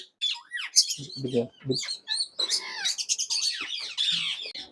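Indian ringneck parrots chirp and squawk close by at a parrot farm in a busy, overlapping burst of shrill whistles and harsh calls, with a few lower gurgling notes.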